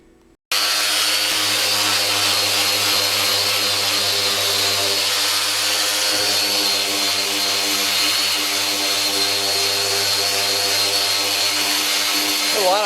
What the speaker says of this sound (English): I'm going to sand over this towel